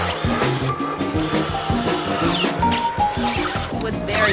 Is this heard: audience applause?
no